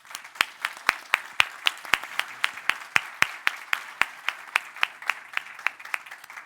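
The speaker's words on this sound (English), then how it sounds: "please give a big applause to the panelists" Applause for the panelists at a technical aviation workshop comes from a small audience: sparse, rhythmic clapping with distinct individual claps in a quiet room, steady for several seconds.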